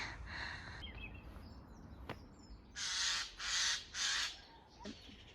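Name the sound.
jays calling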